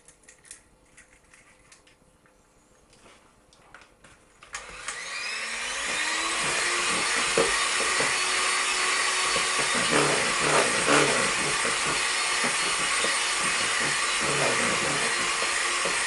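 Chocolate cake batter being beaten in a bowl for a triple chocolate cake, with a steady, loud motorized whir that starts after a quiet few seconds and runs continuously to the end, no voices.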